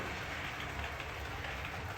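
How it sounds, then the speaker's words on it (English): A model railway train runs steadily over its tracks, a faint continuous rolling rumble with soft clickety-clack, no voices. "that train will cross over there"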